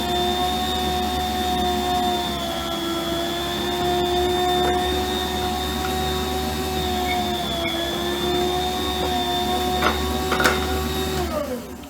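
A Healthy Choice electric food, bread and meat slicer runs while cutting ham, giving a steady, close motor whine and hum that holds unchanged for the whole stretch with no voices.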